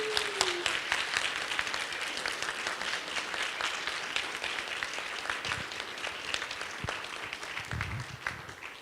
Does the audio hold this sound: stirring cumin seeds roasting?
no